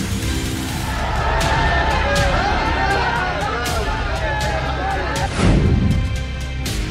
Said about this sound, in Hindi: हाथों में डंडा लेकर नारे लगाती भीड़